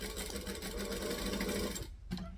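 A home sewing machine runs steadily, stitching fabric for a child's hat with a close, even mechanical whir. It pauses briefly and then restarts with a short burst.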